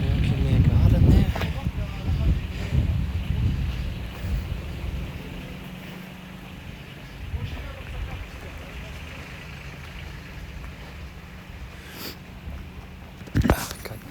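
Wind gusts outdoors on a countryside walk at Bonnegrace, starting as a loud rumbling buffet and easing into a steadier, quieter rush with occasional sharp bursts.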